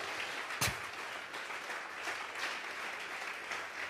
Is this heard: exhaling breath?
no